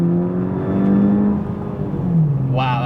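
A 2014 Volkswagen GTI DSG with modifications accelerates hard from inside the cabin, its engine note climbing steadily, dipping at a gear change, then rising again, with a brief voice near the end.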